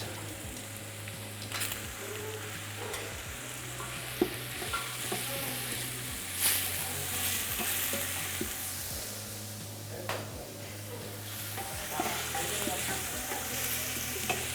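Minced meat fries in a pan with a dense, continuous sizzle up close, punctuated by occasional scraping stir strokes.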